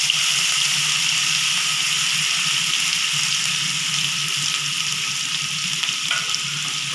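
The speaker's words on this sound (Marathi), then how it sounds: "आता चिरलेला कांदा आणि कढीपत्ता घालूया।" Chopped onion and curry leaves sizzling in hot oil for soyabean khima, a loud, steady hiss of frying that carries on without pause, no voices.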